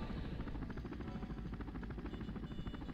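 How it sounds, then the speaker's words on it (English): Dauphin helicopter in the game SimCopter, a steady loud rotor and turbine drone with rapid blade chop throughout, cruising near top speed on a medevac and transport flight. "I really did remember the Dauphin being a 175 knot helicopter."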